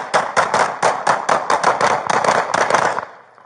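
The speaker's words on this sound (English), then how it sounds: "shots fired" Rapid volley of about a dozen sharp gunshots fired in quick irregular succession during a Las Vegas police officer-involved shooting, loud and close, ending abruptly with a fading tail.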